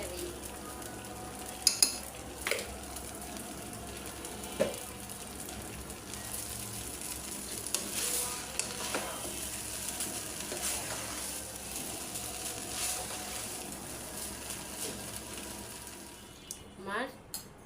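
Vegetable fried rice is stir-fried in a pan with a soft continuous sizzle, while a utensil scrapes and taps the pan now and then, fairly close, and a voice talks briefly over it.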